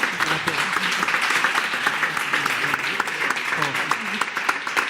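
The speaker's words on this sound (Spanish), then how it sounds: "Lo primero que creo que se merecen estas dos criaturas es un buen aplauso grande" Steady applause from an audience at a book presentation on the voyage of Magellan and Elcano, dense and sustained clapping throughout with a few voices mixed in.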